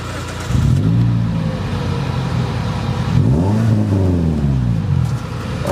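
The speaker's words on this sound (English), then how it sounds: "I don't know if you guys can hear my exhaust." Toyota Corolla exhaust note while driving, loud and close, with a steady engine drone that rises twice in revving sweeps over almost six seconds.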